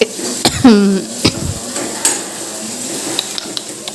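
Boiled potato chutney roasts in a pan, with a soft sizzle under several loud metal clanks and scrapes of a utensil against the pan.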